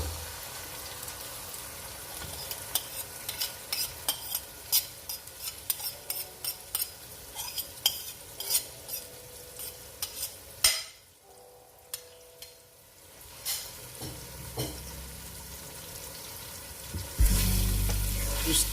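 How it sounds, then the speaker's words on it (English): Chopped onion frying in a pan, a continuous sizzle with repeated scrapes and clinks of a spoon stirring, a brief quieter gap, then a louder surge of sizzling near the end, with no talking. "Now I'm gonna leave the onion to fry for about a minute."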